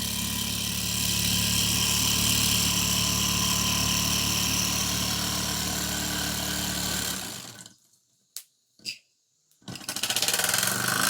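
A small Mamod model steam roller engine runs in reverse, giving a steady, close mechanical chuffing hum that continues for about seven seconds before cutting off, leaving a few brief knocks and then the running noise resuming.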